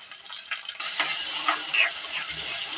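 Small onions sizzle and fry in hot oil with salt after mustard seeds and dried red chillies, a steady close hiss that jumps louder partway through, with light stirring scrapes.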